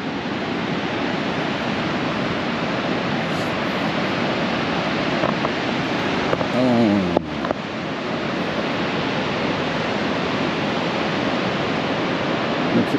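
Strong, sharp wind blows across the Oregon coast near Haystack Rock at Seaside, a loud unbroken roar mixed with surf and buffeting on the microphone, with no voices.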